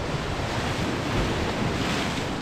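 Sea waves crash against a rocky coast in a continuous loud roar of surf and spray, heavy wind buffeting the microphone, with no voices.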